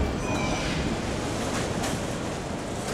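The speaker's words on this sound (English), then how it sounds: "From here we go underground, entering the bright depths of the city, the subway, pride and joy of the capital." A subway train on the Yerevan metro rumbles along underground with a steady, dense roar and a faint squeal of wheels on track, with no voices.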